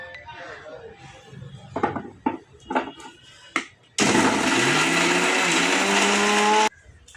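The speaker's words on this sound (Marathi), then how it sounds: "आता चला तर मग आता हे मिक्सरमधनं आपण काढून घेऊ" A kitchen mixer grinder whirs loudly for about three seconds, grinding biryani masala with curd, after a run of clattering knocks and handling sounds, then cuts off abruptly.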